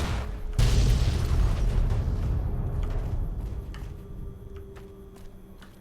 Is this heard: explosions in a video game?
yes